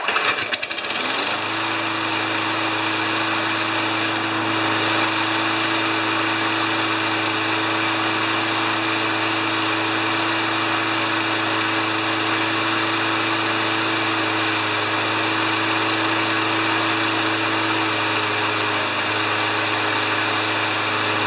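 A Briggs Quantum small engine runs steadily and loudly up close, a continuous droning hum with a slight shift in pitch early on as the RPM is eased down, no voices over it.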